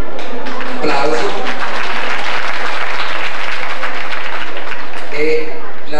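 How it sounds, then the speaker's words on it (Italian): Loud, steady applause from a crowd fills the room at a children's poetry contest in San Benedetto del Tronto, a dense clatter of many hands clapping that continues without a break. "Applauso."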